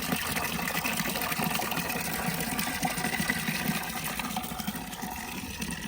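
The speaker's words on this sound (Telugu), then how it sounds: "ఇప్పుడే ఈ డ్రమ్మును క్లీన్ చేశారనమాట మళ్ళీ నీళ్ళని నింపుతున్నారు" Water gushing into a drum outdoors at a farm field, a continuous steady rushing flow with a faint mechanical hum, close and unbroken throughout.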